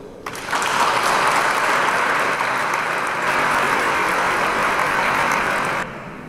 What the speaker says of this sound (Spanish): le vamos a recibir con un fuerte aplauso